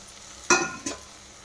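Potato, carrot, ivy gourd and cabbage tossed into a pan together and stirred, two quick scraping clatters over a faint sizzle, close and brief.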